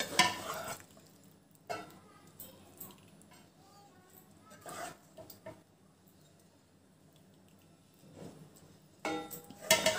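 Chicken pieces go into a large pot of half-cooked round-grain rice for a chicken biryani, giving a few soft clinks and scraping knocks against the pot in short bursts, with quiet stretches between them.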